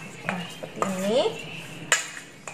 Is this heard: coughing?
no